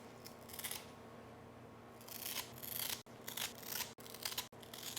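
Scissors cut a Pink Princess philodendron stem between its nodes: soft rustling handling, then several sharp, close snips in quick succession, in a quiet indoor setting.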